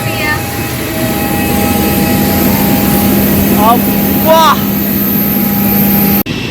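An AirAsia airliner at Langkawi airport gives a steady, loud engine drone with a few tonal whines, and voices talk over it before the sound cuts off abruptly.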